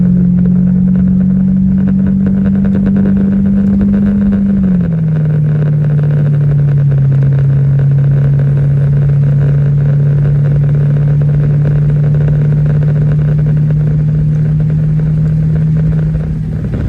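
A Ford Thunderbird engine drones loud and steady while driving, its low hum dipping slightly in pitch partway through and then holding even to the end, with no talk.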